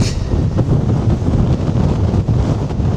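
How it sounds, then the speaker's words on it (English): Strong seaside wind at Mablethorpe buffets the microphone in loud, continuous gusts, a heavy low roar that rises and falls throughout. "You know it's windy when the flag's about to break."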